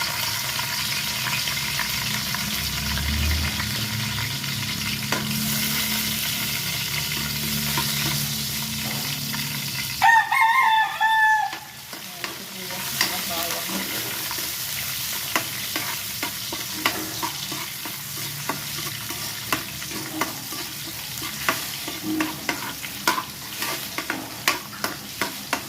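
Chayote sautéing in a pan with tomato about to be added, a continuous loud sizzle broken by a sharp hiss of liquid hitting the hot pan partway through, followed by ongoing frying and irregular stirring scrapes, without talk.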